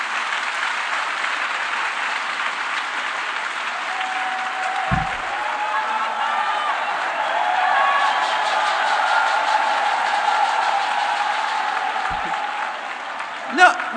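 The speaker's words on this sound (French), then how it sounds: "vous demander d'applaudir bien fort notre premier soutien" Sustained applause from an audience at the FAFCI launch event, a steady, dense wash of clapping lasting throughout and swelling slightly in the middle, with faint voices underneath.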